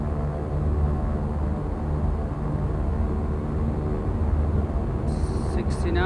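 Cessna 172 piston engine droning steadily at full power during a takeoff roll at Glendale Airport in a VR flight simulator, a dense continuous low hum with a voice talking over it.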